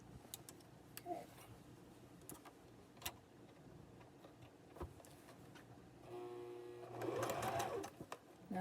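A sewing machine stitches along a fabric edge, a faint, steady rapid ticking hum with occasional clicks, swelling louder toward the end.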